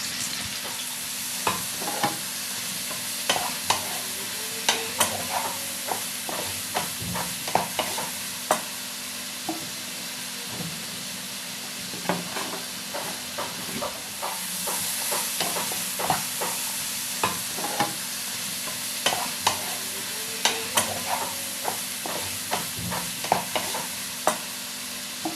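Tomatoes and green chillies frying in a hot pan for a hilsa fish curry, under a constant sizzle with repeated sharp spatula scrapes and stirring knocks at an uneven rhythm, close by.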